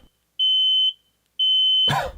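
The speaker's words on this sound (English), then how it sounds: "my fire alarm is going off" A smoke alarm, set off by an exploded Pixel 10 Pro Fold phone, sounds two long piercing beeps separated by a short pause, loud and close, followed by a brief rough burst of noise.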